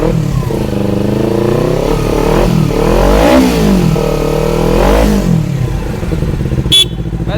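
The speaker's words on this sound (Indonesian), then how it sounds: "kita cek soundin untuk suara mesinnya." A Kawasaki Ninja motorcycle fitted with an Akrapovic racing exhaust revs hard several times, rising and falling loudly up close, followed by a brief electronic beep near the end.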